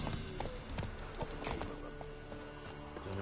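Horse hooves clip-clop in a steady trotting rhythm in The Witcher 3: Blood and Wine, the regular clopping running under ambient game sound.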